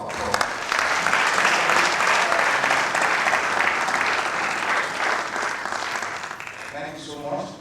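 An audience at an agricultural research council working visit gives a full round of applause, a loud, dense wash of clapping that holds steady and tapers off toward the end, with some voices underneath.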